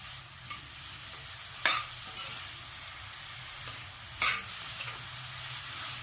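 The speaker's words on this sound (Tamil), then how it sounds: "அந்த ரெண்டு கேரட்டை இப்போ போட்டோம் எதுவும் போட்டு நல்லா வதங்கணும்" Grated carrots sautéing in a pan for carrot and paneer biryani, a steady close sizzle with occasional stirring scrapes, no talk.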